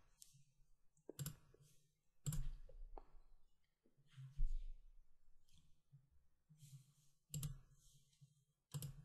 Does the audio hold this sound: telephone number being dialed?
no